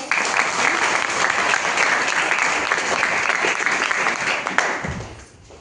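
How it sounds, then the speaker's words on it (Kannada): A hall audience of college students bursts into sustained, loud applause in honour of their parents, a dense clatter of clapping that holds steady for several seconds and then tapers off near the end. "ಒಂದ್ಸಲ ಒಂದು ಚಪ್ಪಾಳೆ ಬರಲಿ ಅವರಿಗೆ"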